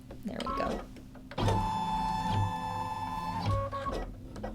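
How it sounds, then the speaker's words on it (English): An embroidery machine stitches a placement line on fabric, a steady mechanical whir and rapid needle patter with brief motor surges, following a voice at the start. "this is going to stitch a tack down line, or a placement line"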